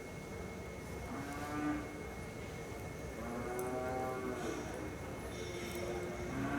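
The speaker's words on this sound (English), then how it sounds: "Just wait on them cows." Cattle moo repeatedly from a herd during a cutting horse event, with several long, low calls overlapping at moderate distance over steady background noise.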